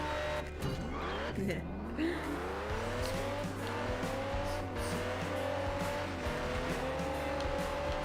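A race car drives in the Gear.Club Stradale game, its engine note rising through gears with tire squeal and skidding, under a person talking.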